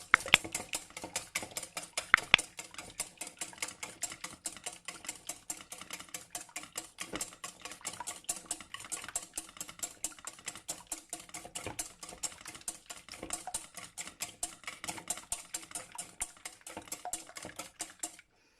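A whisk beats egg-lemon avgolemono sauce in a bowl, a steady fast ticking patter of metal against the bowl running throughout, close and fairly quiet, with no voices.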